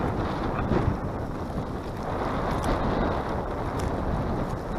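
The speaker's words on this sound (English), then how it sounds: "It's a little bit windy." Steady wind buffets the microphone with a constant rough roar and occasional gusts. No one speaks.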